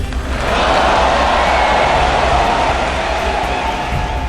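A crowd of about 18,000 at Madison Square Garden cheering for Prime Minister Narendra Modi, a steady, dense roar of massed voices that holds loud throughout.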